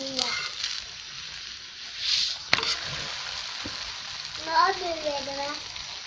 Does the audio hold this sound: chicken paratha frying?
yes